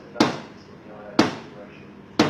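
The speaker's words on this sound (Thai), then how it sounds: "เสียงเคาะโต๊ะ" Three sharp knocks on a table land about one second apart, each a crisp, loud hit with a quick decay over a faint steady background hiss.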